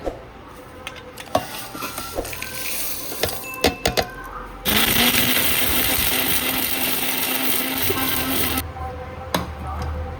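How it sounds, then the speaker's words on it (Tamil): Roasted coriander, chana dal, urad dal and sesame ground in a mixer grinder: first some clinks and handling knocks, then a loud steady whirring grind for about four seconds, then more clatter. "வெந்தயம், மல்லி எல்லாம் போட்டு வறுத்து அரைச்சிட்டேன் பொடியை"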